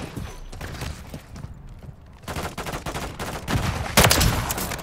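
Sustained automatic gunfire in Call of Duty MW3, dense rapid shots rattling continuously at close range with louder bursts toward the end, alone without talk.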